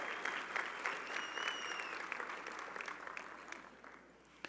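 A gala audience applauds honorees Gabi and Nelson, a dense, steady wash of clapping from a large crowd that gradually tapers off, with a brief voice audible early on.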